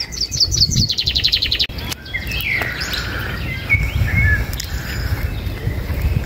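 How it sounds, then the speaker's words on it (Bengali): Birds singing in the open woodland of Soğuksu National Park, starting with a quick run of repeated high chirps, followed by a steady stream of varied warbling calls over a constant background hum. "কি একটা পাখি সুন্দর গান গেয়ে যাচ্ছে।"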